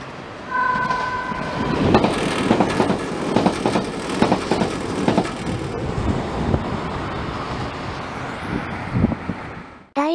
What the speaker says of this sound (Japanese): 田形神社前、安治岡、小牧原の3駅は、 足取り軽やかに通過する